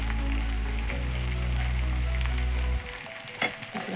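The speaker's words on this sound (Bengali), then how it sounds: "এবার এই পেঁয়াজগুলো দিয়ে দিচ্ছি পেঁয়াজগুলো বেশ লাল লাল মতো হবে" Onions sizzle and fry loudly in a hot pan for a home-cooked Bengali meat curry meal, a steady crackling hiss with a low hum that drops away sharply near the end, leaving faint kitchen clatter.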